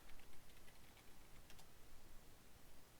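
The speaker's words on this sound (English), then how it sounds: "Type your password." A password is typed on a computer keyboard as a few faint, quick keystroke taps over a steady hiss, with no voice.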